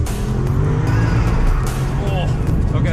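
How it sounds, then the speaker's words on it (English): A 2019 Porsche Cayenne Turbo launches hard under launch control, with a loud, close engine roar and a rough scrabble of tires as it pulls away. "Launch control activated."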